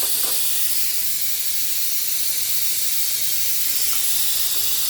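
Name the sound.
cut potato fries put into hot oil, sizzling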